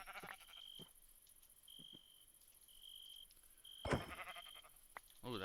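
Sheep bleating in the Minecraft video game, a few short game bleats scattered over a quiet backdrop of steady cricket-like chirping, with one louder, busier burst near the end.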